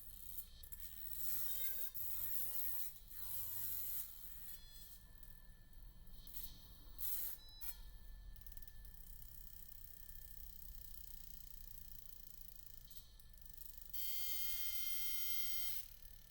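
A laser machine works over an iPhone during repair, stripping adhesive in repeated passes, giving a steady electronic buzz with high whining tones and brief scraping bursts, fairly quiet and continuous with no talk.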